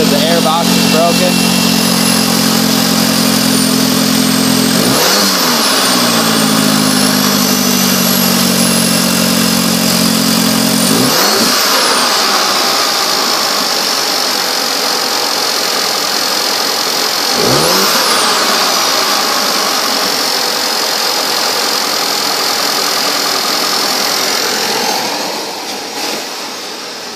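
A 2015 Volkswagen Golf engine with a broken intake air box runs loud and steady, with a few sharp revs rising and falling throughout, voices speaking over it.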